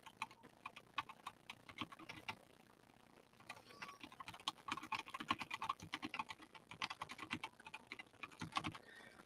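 Rapid keyboard typing, irregular bursts of light clicking keystrokes with brief pauses, close but fairly quiet, no voices.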